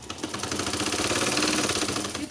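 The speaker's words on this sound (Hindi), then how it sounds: "तो यहाँ पे जो है डबल सिलाई कर लें," A sewing machine double stitches the seam of a stuffed Humpty Dumpty toy, its steady rapid mechanical chatter running loud and close for the whole stretch.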